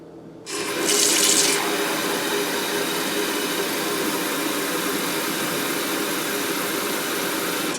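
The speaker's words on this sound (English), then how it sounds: "I'll just go straight tap water since my tap water is crazy dirty" Tap water gushes steadily from a faucet into a sink, starting abruptly with a brief louder splash, then a constant close, loud rushing flow with no voices.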